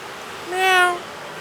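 A single drawn-out meow imitated by a human voice, rising and falling over about half a second, clear against a quiet background.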